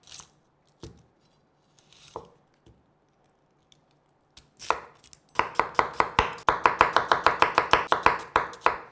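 Knife finely chopping ginger on a cutting board, starting with a few sparse taps and then breaking into a fast, steady run of crisp chops close by.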